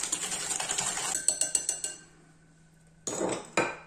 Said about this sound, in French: Dans les jaunes d'œufs, je vais ajouter 70 g de sucre en poudre. Vous mélangez tout ça.